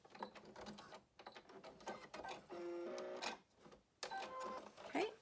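A sewing machine stitches a zigzag seam on a 100% cotton gaiter, quick bursts of rapid mechanical clatter broken by short pauses, fairly close and moderately quiet.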